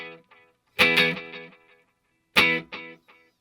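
An electric guitar plays through a Line 6 pedal set to a light slapback echo, sounding two sharp plucked chords a second and a half apart, each followed by a quick fading repeat and then silence.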